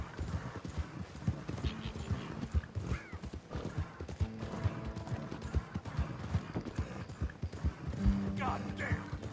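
A horse gallops in a video game, rapid rhythmic hoofbeats running continuously with a whinny near the end, while someone talks over it.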